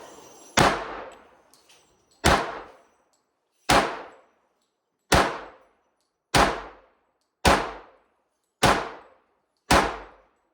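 A Tisas 1911 pistol emptying an 8-round magazine outdoors: eight sharp, loud reports spaced roughly 1.5 seconds apart, each ringing off quickly, with no talk.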